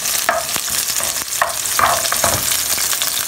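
Chopped onion sautéing in a hot pan during a tofu and kangkong stir-fry, a steady close sizzle broken by repeated scraping strokes of a spatula stirring the pan.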